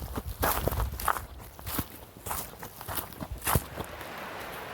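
Footsteps walk along a park trail at night in Beaver Creek State Park, Ohio: a steady, moderately close crunch of paced steps over a faint outdoor background, with no talking.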